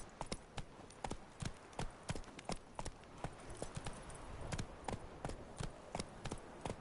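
Roach the horse gallops in The Witcher 3, hooves clip-clopping in a quick, steady rhythm of sharp hits, moderately close and unaccompanied by talk.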